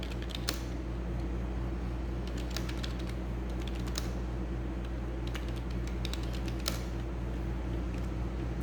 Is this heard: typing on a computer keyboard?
yes